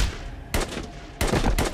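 Sniper rifle fire in a scene from the movie The Purge Election Year: three sharp, loud gunshot blasts about half a second apart, each with a short booming tail, heard alone.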